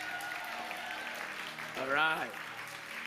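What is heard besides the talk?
audience clapping in church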